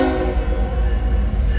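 A slow CSX coal train rumbles past with a deep, steady low drone and a sustained horn tone above it, close and loud, with no talking.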